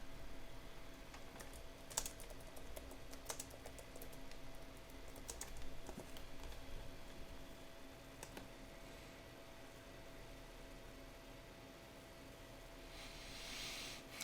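Typing on a computer keyboard while playing an online puzzle mystery game: faint, irregular key clicks in short bursts, with a few louder taps, over a low room hiss and no speech.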